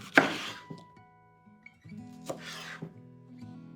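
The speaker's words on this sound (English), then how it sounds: "So I cut my eggplant like this." A knife slicing through an eggplant on a cutting board, with a sharp chop near the start and a second cut in the middle, set against a faint background hum.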